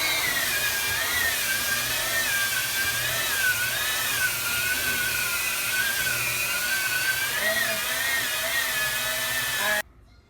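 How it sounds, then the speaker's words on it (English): An electric sander smoothing a rough wall around a bathroom window, a loud continuous whine that wavers in pitch as it presses and moves across the surface, then cuts off abruptly at the end. "Now I'm gonna press the button, turn it on, and I'm gonna sand all this roughness down around here"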